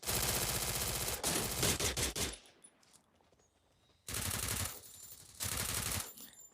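Rapid automatic gunfire from the Free Fire video game, loud bursts of machine-gun fire in two stretches separated by a quieter gap, with no talking.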